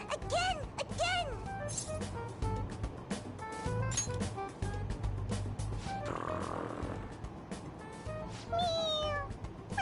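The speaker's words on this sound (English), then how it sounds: "It meows when you press on its head." Several squeaky meows from a pressable toy cat in Persona 5 Royal come in quick succession. Background music and a brief burst of noise run underneath.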